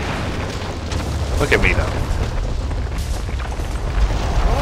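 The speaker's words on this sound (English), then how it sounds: "I don't like the building exploding next to us." Building blowing up nearby in Gears of War 2 co-op campaign, deep rumbling booms and bursts under a voice talking over the blasts.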